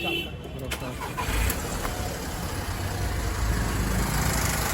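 VW Polo 1.2 petrol engine starting after an engine speed sensor repair: a brief cranking burst, then the engine catching and settling into a steady idle, with someone talking over it.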